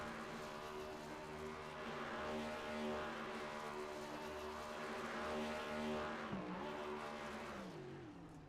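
Race car in a Cup Series racing video game at Homestead doing a celebratory burnout: a sustained, loud engine roar with steady rising and falling revs, no voices.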